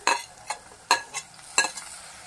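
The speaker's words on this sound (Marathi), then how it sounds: "कांदा घातल्यानंतर आपण टोमॅटो घालूया" Tomato stirred into frying onion in a pan, with a spoon scraping and clinking in four distinct strokes over a soft sizzle, close and clear with no voices.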